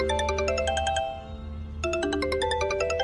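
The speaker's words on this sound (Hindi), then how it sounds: "फोन कर रहा है" A phone ringtone plays a bright, repeating electronic melody in two bursts separated by a short pause, loud and close, over a low steady hum.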